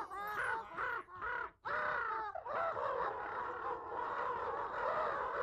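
Crows caw in loud, harsh bursts. Several calls come in quick succession, followed by a dense, sustained chorus of overlapping cawing birds.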